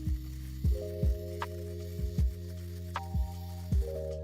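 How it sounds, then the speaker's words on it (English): A fabric shaver works over a 2001 Air Jordan 3 Black Cement sneaker to remove lint, a steady low motor hum broken by repeated short scraping bursts as the blades pass over the shoe. "we can use a fabric shaver"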